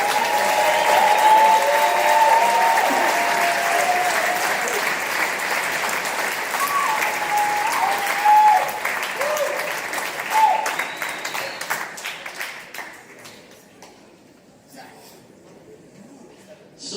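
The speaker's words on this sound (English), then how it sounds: "one more round of applause for Jack Patrick." Audience at Michigan Ice Fest clapping in a long, loud round of applause that slowly thins out and fades toward the end, with some voices mixed in.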